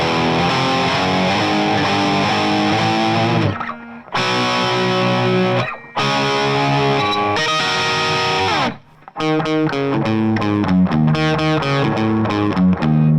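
Distorted electric guitar plays chord riffs in bursts with short pauses, washed in reverb and echoing delay, loud and up front.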